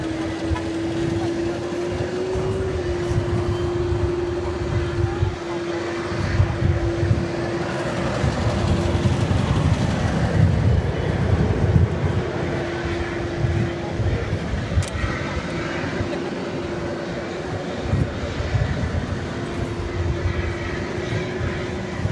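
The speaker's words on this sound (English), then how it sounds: "This is one of those rare MD-11s that we don't have a musical salute for because it dates back to the year 2000." An MD-11 jet at Dallas Fort Worth airport at night gives a steady, loud engine roar with a sustained tonal whine throughout, and no voices over it.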